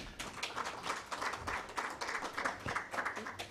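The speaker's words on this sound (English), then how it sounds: "A round of applause to him." Applause from a conference audience at a national rights event, a soft, fairly distant wash of many hands clapping steadily for a few seconds.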